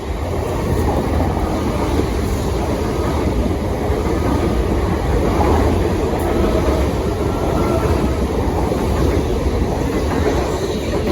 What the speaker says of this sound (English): The next train to pass by will be a Southern service.